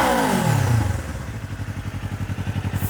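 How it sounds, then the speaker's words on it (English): A Kawasaki Ninja 500 fitted with a Yoshimura exhaust gives one sharp aggressive rev that swoops up and back down, settling into a rapid, throbbing idle burble close at hand. "Let's do a little bit of an aggressive rev"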